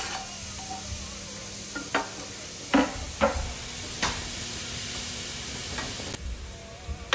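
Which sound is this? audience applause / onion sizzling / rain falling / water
onion sizzling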